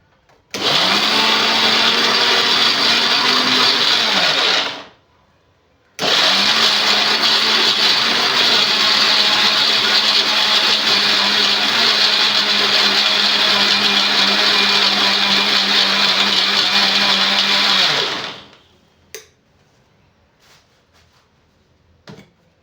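A blender grinds banana into bajji batter in two loud, steady whirring runs, the first about five seconds and the second about twelve, separated by a short pause; the motor winds down and brief soft clicks follow.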